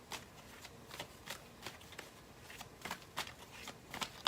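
Tarot cards being handled and shuffled at close range, with a run of short, crisp card flicks and slaps spaced irregularly through a quiet room.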